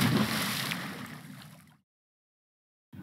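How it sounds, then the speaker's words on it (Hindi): An animal leaps into cold river water, making a broad sloshing splash that fills the opening moments, then fades and cuts to silence before a brief burst of sound at the very end. "वो भी नदी के ठंडे पानी में कूद गया।"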